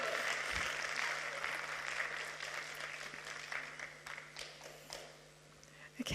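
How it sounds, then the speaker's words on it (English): An audience at a climate summit applauds youth speakers, with scattered clapping that thins and fades out toward the end, quiet and somewhat distant. "Give them a clap."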